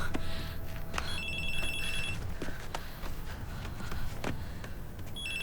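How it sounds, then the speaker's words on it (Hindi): A phone rings in repeated electronic trills over a noisy, rumbling background, with short bursts separated by pauses. "हसन का फोन है।"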